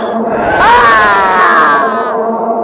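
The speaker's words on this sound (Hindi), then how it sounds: "अनिकेत जोर से चीख पड़ा" A man lets out a loud, drawn-out scream of agony, close and strained, which rises and then trails off, set in a horror story.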